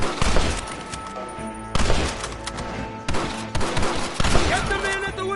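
A volley of gunshots, with several loud, close bursts of firing separated by short gaps, each a heavy blast with ringing decay.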